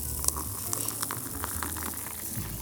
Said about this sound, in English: I don't know if that picked up like any cool pouring sounds